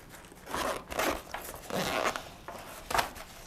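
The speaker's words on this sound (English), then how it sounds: "The zips open like so" The zips of a Raptor admin pouch are pulled open in several quick rasping strokes, close up and clear, with short pauses between pulls and no talking.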